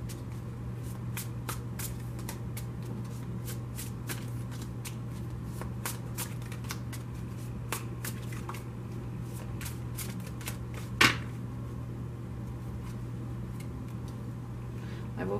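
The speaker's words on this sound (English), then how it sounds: "I have pre-shuffled this deck, so I'm only going to shuffle it for a moment." A tarot card deck being shuffled briefly, a quiet run of soft riffling card flicks against a steady low hum, with one louder snap near the end.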